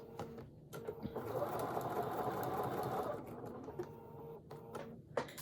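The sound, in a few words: sewing machine stitching a quilt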